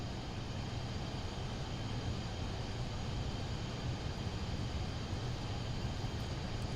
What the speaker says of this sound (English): Now listen to those engines.